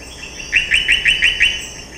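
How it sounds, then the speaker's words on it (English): A frog gives a rapidly pulsed call: six quick, evenly spaced rising pulses, loud and close, over a steady high whine of other night callers. "here's an example of a species that makes a rapidly pulse call."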